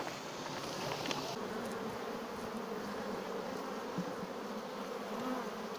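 Honeybees swarm at an opened hive box that had been split and left queenless, giving off a steady, dense, close buzz that holds evenly throughout without any talk.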